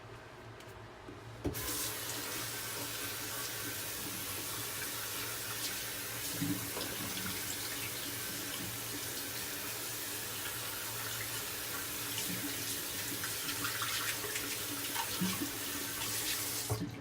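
Water from a tap runs steadily while a shaving soap puck is rinsed out, a constant close splashing flow that starts abruptly and continues throughout with small clinks, no talk.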